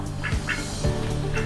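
Ducks quack nearby on a farm where a puppy meets poultry, a few short nasal calls in quick succession over steady outdoor background noise.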